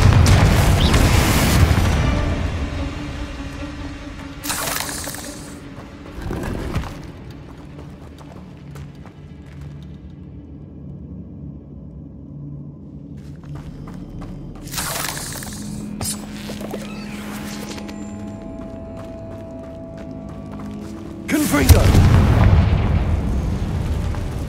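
In the Hogwarts Legacy game, Confringo spell blasts hit in several loud booming bursts spaced through the stretch, with a rumbling ambient bed and clattering between impacts, the last blast the heaviest.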